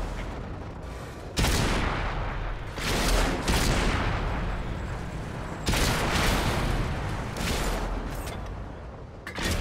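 Tank cannon fire in World of Tanks booms out in heavy, loud blasts, several sharp shots spaced a couple of seconds apart, each followed by a rumbling decay amid ongoing battle noise.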